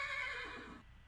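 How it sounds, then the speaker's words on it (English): A horse neighs once in Minecraft, a brief, fairly faint whinny that fades out quickly over low background sound. "It's no longer near the loud horses and birdies."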